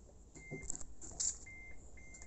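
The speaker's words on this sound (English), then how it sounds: "and then the car beeps and it starts charging" A Nissan LEAF ZE1 electric car gives a short electronic beep tone a few times at steady pitch as charging starts from a home wall plug, over a low background hum, with a brief click or clunk in the middle.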